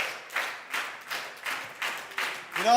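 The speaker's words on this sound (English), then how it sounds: "Keep that clap on." A small group claps in a slow, steady rhythm, about seven evenly spaced claps close by, at a leadership camp gathering, ending as a voice briefly starts.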